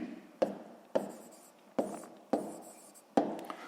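Pen or pencil writing on paper during a sixth-grade geometry exercise on a cube's edge, heard as five separate scratchy strokes, each with a sharp onset and a trailing scrape, close and fairly quiet with no talk.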